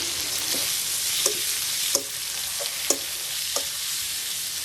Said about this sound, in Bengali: 3টে টমেটো দিচ্ছে এখানে। দিতে হবে একটু আদা রসুন, অল্প করে দিলেই হবে। আর একটু নাড়া দিই।